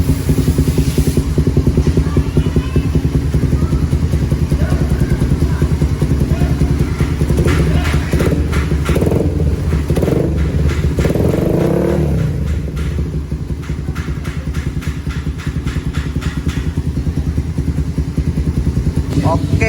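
A Suzuki Satria FU motorcycle engine idles with a fast, buzzing pulse and blips its revs several times, loud and close, with people speaking over it during the sound check.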